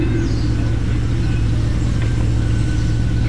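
Engine of the Carson Thunder Custom muscle car in Burnout Paradise, a loud, steady low rumble that holds constant throughout without breaks.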